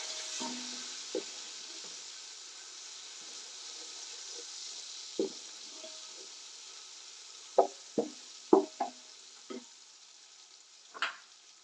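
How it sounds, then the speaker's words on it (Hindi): Green chili paste fries in a pan for a masala vegetable pulao, a steady soft sizzle running throughout with scattered sharp knocks of a spoon against the pan, no voices. "सब्ज मिर्ची का पेस्ट, इनको भी अच्छे से कर लेंगे फ्राई"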